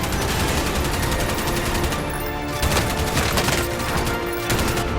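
Rapid automatic gunfire in the video game Warzone, loud and dense bursts of shots rattling continuously with brief gaps, close and sharp, with no talk over it.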